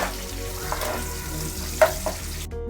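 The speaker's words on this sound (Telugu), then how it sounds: "ఆనియన్, ఇది బాగా బ్రౌన్ కలర్ వచ్చే వరకు ఫ్రై చేసుకున్నాను." Onions fry in a pan until brown for a makhana (lotus seed) masala curry, a steady sizzle with stirring scrapes and a few sharp clacks of a spoon against the pan.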